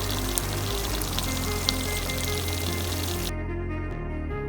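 Water is poured into a pan of frying masala for mutton kofta curry, a steady close sizzling hiss that cuts off abruptly partway through, leaving a quieter low bubbling simmer.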